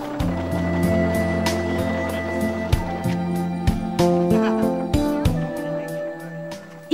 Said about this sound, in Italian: Lance a motore cariche di prodotti raggiungono i mercati e si affollano ai piccoli